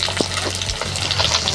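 Fish sizzling in hot spattering oil: a close, continuous crackling fry with small pops throughout the short moment.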